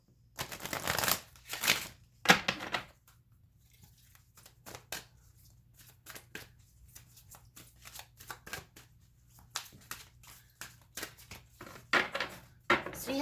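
Native Spirit Oracle cards being shuffled close by in repeated riffling and flicking bursts with quieter gaps, soft overall with a faint low hum beneath.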